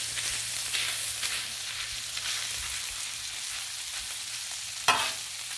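Bacon sizzles steadily in a pan set over the hot spot between two heating elements, a continuous close crackling hiss with a low hum beneath and one sharp clink near the end.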